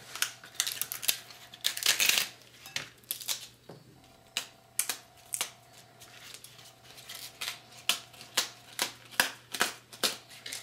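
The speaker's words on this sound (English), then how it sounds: "how small you want to rip the pieces up" Leafy greens torn by hand into small pieces for iguana feed, producing a close series of crisp ripping and rustling bursts at an uneven rhythm, with no talking.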